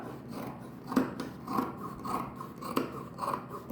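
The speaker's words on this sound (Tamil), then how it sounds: "இந்த பீஸு கரெக்டாக நேர் பண்ணி இதையும் கட் பண்ணி எடுத்துடலாம்" Scissors snip through fabric while cutting patiala pants, a few distinct crisp cuts spaced across a quiet background with rustling cloth between them.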